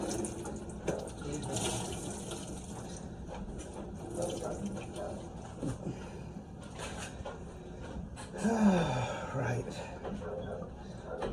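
Water runs into a container to soak peppers, a rushing, gurgling pour with a louder surge near the end, heard alongside talking.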